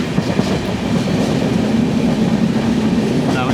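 A train arrives along the Punalur line in Kerala, its locomotive pulling in with a steady, loud rumble and rolling rail noise that stays close and continuous throughout.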